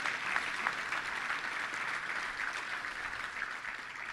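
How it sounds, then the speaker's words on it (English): Luncheon audience at a Little Rock touchdown club meeting giving a round of applause for sponsors, steady moderate clapping throughout, heard from a slight distance. "Let's give a big round of applause to all of them."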